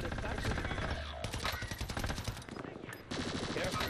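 Gunfire from a shooter video game plays as a loud, dense burst of rapid shots. It pauses briefly and then starts again.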